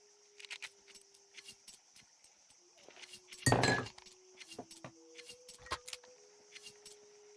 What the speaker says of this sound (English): Just the smash of the glass.